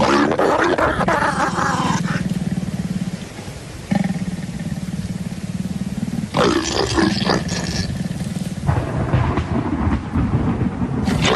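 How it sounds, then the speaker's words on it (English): Lions roar in the evening, heavy and loud, in repeated bursts with pauses between, carrying a deep rumbling body that fills the scene with no talk. "The roars of lions disrupt the intimacy of the pair."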